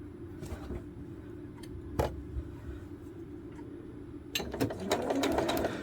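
A sewing machine stitches 1.5 by 3.5 inch fabric strips for quilt piecing, a low steady mechanical hum with a few sharp clicks, running faster and louder toward the end.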